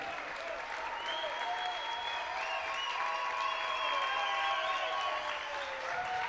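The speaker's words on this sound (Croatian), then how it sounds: "Veliki aplauz, Izabela." An audience claps in sustained, even applause that swells slightly and holds steady, heard at a distance at the closing ceremony of the III Croatian World Games.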